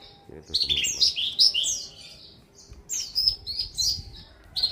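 Javan bush lark chirping in bright, rapid bursts of warbling trills, two phrases separated by a short pause, fairly close and clear with faint background noise.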